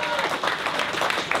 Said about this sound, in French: On peut applaudir, hein.